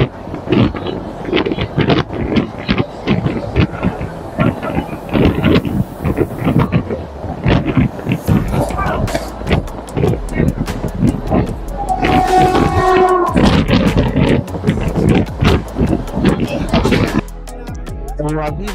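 Karnavati Express train rolling out of Borivali station, rhythmic wheel clatter and carriage rumble with wind noise, heard from inside while a person talks over it throughout.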